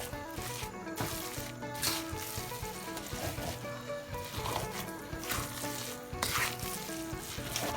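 Steamed Isan sticky rice is stir-fried with coconut milk in a pan for traditional Isan merit-festival khao tom phat, giving a steady close sizzle with scraping stirs throughout, under a tonal musical backing.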